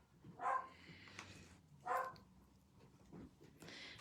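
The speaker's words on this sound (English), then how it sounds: "nobody gets past our door without a dog barking" Dogs bark at the door in two sharp, separate barks spaced about a second and a half apart, heard at moderate distance in an otherwise quiet room, followed by softer yips.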